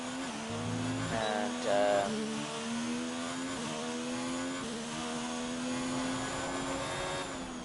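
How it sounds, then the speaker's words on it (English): F1 cars from the F1 racing game at Spa in Belgium, rolling back toward the pit lane, engine tones rising and falling through gear changes in a continuous whining hum, moderately close with no talk. "we'll just let a couple of cars drive back to the pit lane"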